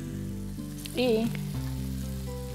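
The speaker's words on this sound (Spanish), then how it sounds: "lo va friendo" Fish fillet frying in a pan over low heat for a Lenten dish, giving a steady, close sizzle throughout with a brief tonal swell in the middle.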